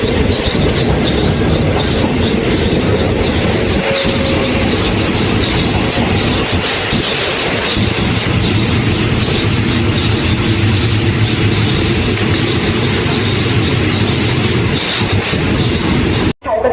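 Thai local train 447 on the Surat Thani to Sungai Kolok line rolling steadily, with a continuous rumble and rhythmic clickety-clack of wagon wheels, close and loud throughout before cutting off abruptly at the end.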